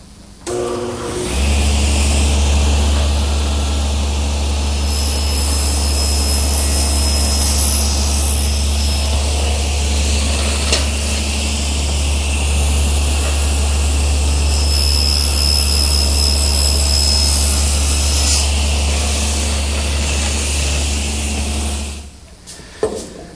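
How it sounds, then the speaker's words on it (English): A table saw fitted with a guide block makes a shoulder cut in wood, a loud continuous whine and roar that starts abruptly, holds steady for about twenty seconds, then cuts off. "First, I want to make this shoulder cut at my table saw"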